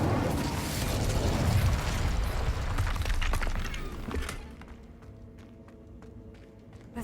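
An Incendio fire spell in Hogwarts Legacy erupts as a loud, roaring burst of flame with crackling bursts, then fades after about four seconds into a quieter, thinner rustle.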